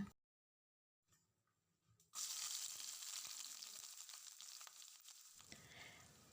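Curry leaves hit hot coconut oil with a sudden loud sizzle after a short quiet pause, then crackle and fry steadily and close up, no voices, while cooking a prawn dish.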